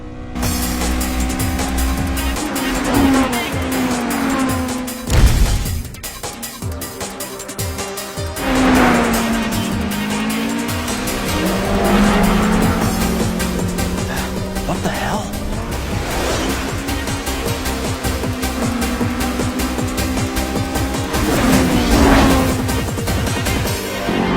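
Toyota AE86 engine screaming at high revs as it races uphill in the anime Initial D, loud and continuous with gear changes and tire squeals, voices speaking over the roar.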